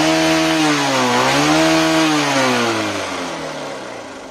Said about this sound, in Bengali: আর ইঞ্জিন সাউন্ডটা কত সুন্দর দেখেন